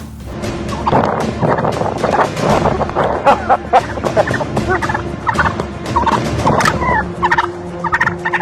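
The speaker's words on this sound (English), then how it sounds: "an unexpected hero steps in, a very angry turkey." An angry turkey gobbles loudly and repeatedly close by, with rapid rattling calls in bursts over wind buffeting the microphone.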